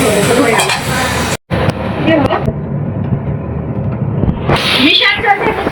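Fried rice being fried and stirred in a large pan at an outdoor winter picnic, loud scraping and sizzling up close, with voices talking over it.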